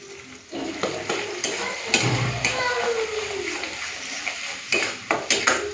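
Flat bean paste frying and being stirred in a pan, a steady close sizzle with repeated scraping strokes and occasional sharp clinks of a utensil against the metal.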